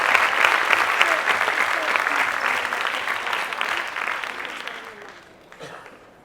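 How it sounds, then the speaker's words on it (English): A school audience gives a sustained round of applause for Charter Challenge students at a Year 6 graduation, steady dense clapping that thins and fades out near the end. "We give a huge round of applause please for our Charter Challenge students."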